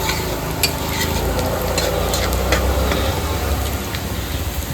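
Onions fry in a pan for a home-cooked chicken curry, giving a loud, dense crackling sizzle throughout, with sharp spatter pops and low rumbling stirring close by.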